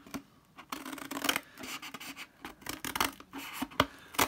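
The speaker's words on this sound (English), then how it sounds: "So I'm going to cut these two end flaps off." Scissors snip repeatedly through cardboard box end flaps in short, uneven bursts of crisp cutting and rubbing, close and fairly quiet, with brief pauses between cuts.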